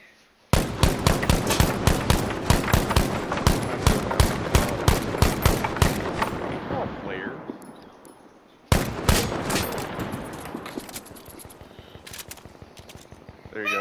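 Loud rapid automatic gunfire in Battlefield Firestorm, long bursts of closely spaced shots that tail off, pause briefly, then resume in another sustained burst.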